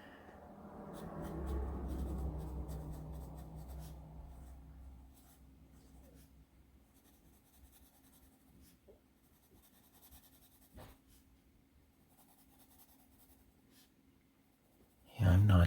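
Draco 3B graphite pencil scratching across paper, a soft continuous scraping strokes pattern that is loudest early and fades to faint intermittent strokes, ending in a sudden close thump.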